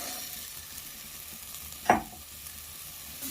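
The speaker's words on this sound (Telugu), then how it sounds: "ఇప్పుడు పితిపప్పు వేసుకొని ఫ్రై చేసుకోవాలి" Hyacinth bean seeds fry in a pan, a low steady sizzle with one sharp stirring clink or scrape partway through.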